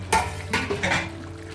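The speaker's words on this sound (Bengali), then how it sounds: "আর এখানে চিকেনটা এখন কষা হচ্ছে।" Chicken is stirred and sautéed in a pan, with a few brief scrapes and clatters over a soft sizzle.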